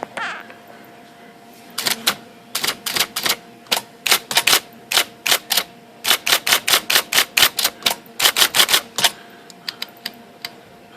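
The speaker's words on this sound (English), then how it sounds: "Very nice typewriter." A reconditioned IBM Selectric 1 typewriter, model 721 with an 11-inch carriage and fabric ribbon, some 40 to 50 years old, types in a quick, uneven run of sharp, loud, close mechanical keystrokes, heard alone.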